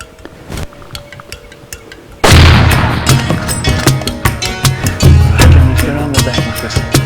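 A rifle fires a soft-point bullet at a Cape buffalo during a hunt in Zimbabwe: one very loud, close shot, then a long rolling boom and echo with further thumps and rumbling in the open bush.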